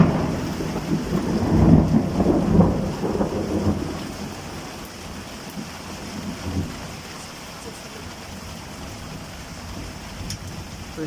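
Thunder rumbles loudly through a steady rainstorm, peaking in the first few seconds before fading into continuous rainfall with a softer distant roll later on.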